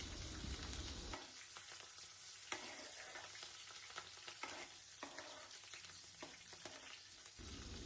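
Chopped green chillies frying in oil for an amaranth leaf curry, a steady crackling sizzle with occasional stirring taps, close and even throughout, no talk.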